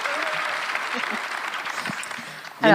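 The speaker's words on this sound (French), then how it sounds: "Moi aussi, je veux des applaudissements." An audience claps at a French talk on Generation Z, a steady moderate patter of applause continuing under a speaker's voice, with a louder burst of clapping rising right at the end.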